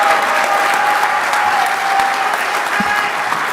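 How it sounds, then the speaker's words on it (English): A banquet crowd at an RC racing world championship awards night gives loud, sustained applause for the two-wheel drive world champion, dense clapping with a few scattered louder claps and faint background voices. "huge round of applause for Tater, a.k.a. Michael Sontag, your 2023 two-wheel drive world champ"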